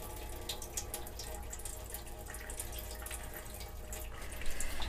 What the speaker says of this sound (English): Then run your sink, specifically your cold waters.